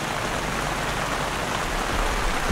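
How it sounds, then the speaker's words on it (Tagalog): Heavy rain pours steadily at a motorcycle campsite in Tanay, a dense, continuous wash of drops drumming on surfaces close by with no pauses, loud and unbroken, no voices. "Mas malakas pa yung ulan ngayon kaysa kahapon,"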